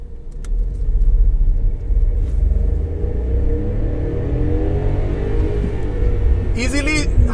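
A Volkswagen Ameo car pulling away from a standstill in first gear with a gentle launch, its engine rumbling steadily and rising in revs from inside the cabin, with a brief rattle and squeak near the end.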